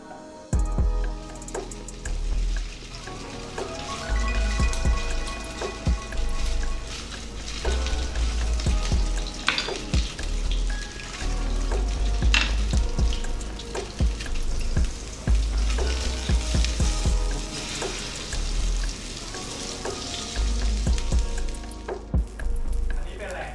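Continuous sizzling of seafood frying in hot oil in a hot pan, with scattered clinks and stirring sounds over a low background hum.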